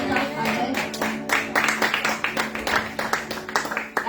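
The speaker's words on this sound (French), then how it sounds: "un applaudissement au Seigneur ce matin" A church congregation applauding at a Sunday service, scattered rhythmic clapping that stays moderate in level, mixed with voices and singing rather than standing alone.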